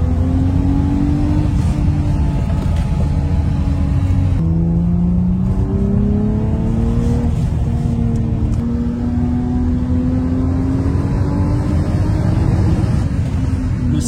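The M20B25 inline-six of a 1989 BMW 525i E34 runs loud and close. Its pitch rises and falls in repeated revs over a constant rumble, with no pause throughout.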